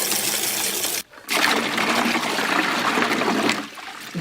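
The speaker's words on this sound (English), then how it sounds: "Now I'm going to add some water." Water poured into a salmon brine for campfire smoking, a loud continuous splashing pour that breaks off briefly, then resumes in a steady gushing stream before tapering slightly.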